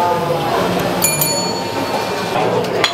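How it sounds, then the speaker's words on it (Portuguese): Bell rung in a busy professional kitchen of a bakery and brasserie, two bright metallic rings near the middle with a fainter chime at the end, over steady kitchen bustle and murmured background voices. "Ela já tava aqui, ó, tocando o sino na cara"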